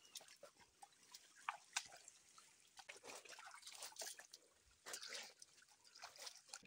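Water trickles and drips in a small nearby stream, a faint, uneven patter of little splashes and gurgles running steadily with no one talking.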